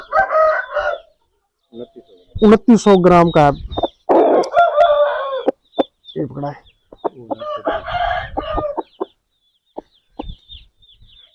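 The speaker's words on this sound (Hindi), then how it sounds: "ये मुर्गा है" An Aseel rooster crows loudly nearby and clucks repeatedly, with someone talking intermittently between the calls.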